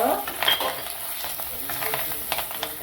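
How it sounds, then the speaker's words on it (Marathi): Curry leaves and turmeric crackle in hot oil in a pan for Maharashtrian kadhi, a close, steady sizzle with a few utensil scrapes and clinks. "थोडासा जास्त कढीपत्ता घ्या कढीपत्ता चढला का त्यामध्ये आपण हळद टाकू"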